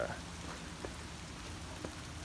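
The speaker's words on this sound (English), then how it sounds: "I know it's raining" Rain falls outdoors as a steady, soft hiss, with a few faint, isolated taps standing out now and then throughout.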